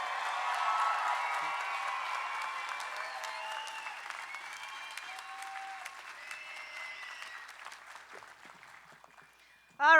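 Sustained crowd applause at a college commencement gradually tapers over ten seconds, with scattered cheering and voices in the mix and a sudden loud voice at the very end.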